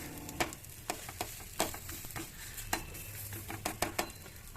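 A breakfast frying quietly in rice bran oil after being flipped, with a soft sizzle under scattered clicks and scrapes of a utensil against the pan.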